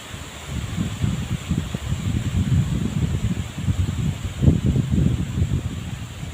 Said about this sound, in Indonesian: Wah, anginnya kencang sekali ya teman-teman di sini